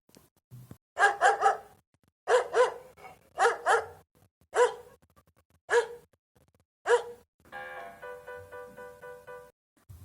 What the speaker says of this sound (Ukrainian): Ми чуємо голос гав.